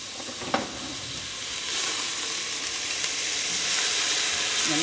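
A large diced onion drops into hot oil in a soup pot. It sets off a loud, close sizzle that rises into a bright, steady hiss, with a brief clatter of the pieces landing early on.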